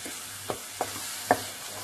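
Ground spice paste stir-fried in a pan for a rainy-season keval greens curry: a soft steady sizzle broken by three short scraping stirs of a spoon against the pan, close and fairly quiet.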